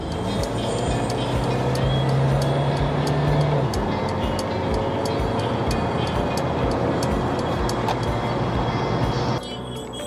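A 2018 Mercedes A-Class engine running in sport mode gives a steady, fairly loud low drone with a smooth purring tone that holds throughout and eases slightly just before the end.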